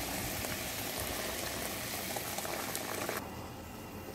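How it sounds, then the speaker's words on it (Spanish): Chicken-feet broth pours steadily into a soup pot, a dense liquid rush with a gurgling boil-like texture that runs continuously, then thins and softens near the end. "Le vamos a agregar lo que es el caldo de las patitas. Aquí le estamos agregando el caldo."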